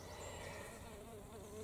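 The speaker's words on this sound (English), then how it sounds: "Oh, sorry, bee." A bee buzzes in a May kitchen garden among freesia blooms, a close, steady drone that lasts throughout over faint outdoor background noise.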